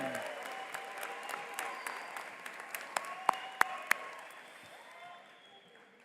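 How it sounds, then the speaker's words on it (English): A high school graduation audience at the Pigeon Forge High School 2025 commencement applauds the senior class: steady, moderately distant clapping from a large crowd with a few sharp close claps, thinning out toward the end. "So let's give this senior class a big round of applause."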